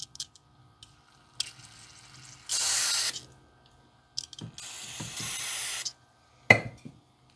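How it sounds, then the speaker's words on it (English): Cleaner spritzed from a spray bottle onto a used generator, two sustained hissing sprays with small clicks and handling noises between them, close and alone. "I might spray a little bit directly on it"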